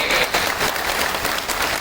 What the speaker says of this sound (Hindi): अपने समाज के नाम पे तो तालियों की गड़गड़ाहट होनी चाहिए